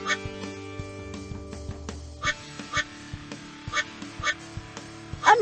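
A cartoon duck quacks repeatedly in short, bright bursts over a steady electronic music bed in a Paw Patrol kids' video game.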